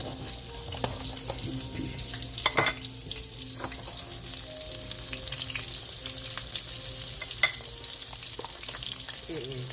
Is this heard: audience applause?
no